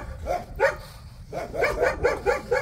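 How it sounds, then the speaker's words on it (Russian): Dogs barking in a quick run of sharp, moderately close barks, one short burst and then a steady series after a pause, with no talk over them. "Собаки лают."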